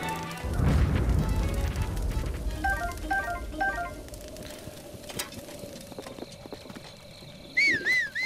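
Horse hooves clip-clopping in a Zelda video game, a steady run of near hoofbeats over game music and chiming effects, fading to lighter steps later.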